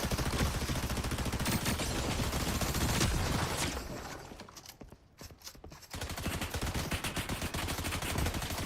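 Rapid gunfire from the Fortnite video game rattles densely and loudly for several seconds, drops into a brief quieter stretch, then returns as steady bursts of shots.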